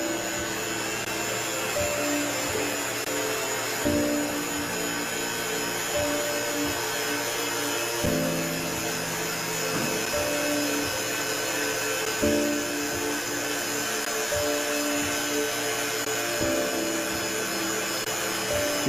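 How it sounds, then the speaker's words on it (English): Vacuum pump running on a vacuum chamber covering a beaker of water, a steady mechanical drone with a low, pulsing hum that shifts slightly in pitch every few seconds, close and continuous with no talking. "we're gonna cover it with the vacuum chamber and then turn it on and see what happens"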